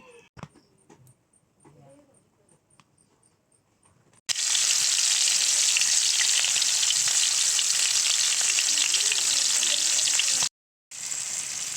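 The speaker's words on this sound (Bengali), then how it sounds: "মাছ ভাজা চলছে।" Hilsa fish frying in oil over a wood-fired stove late at night, a loud, steady, close sizzle that fills most of the clip after a quieter start with light kitchen clatter, breaking off briefly near the end.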